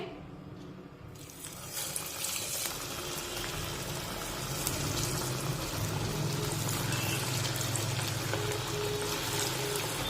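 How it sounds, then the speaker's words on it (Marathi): Chana dal vadas frying in hot oil over a medium flame. A dense, steady bubbling sizzle starts and builds, then holds loud and constant. "मध्यम आशेवर हे वडे तेलामध्ये तळून घ्यायचे"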